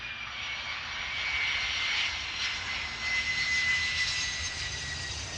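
A fixed-wing airplane at Tarbes-Lourdes airport, a regional airstrip, gives a steady, smooth engine roar that swells slightly and holds at moderate distance with no voices.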